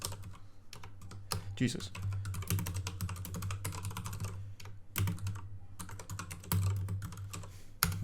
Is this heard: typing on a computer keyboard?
yes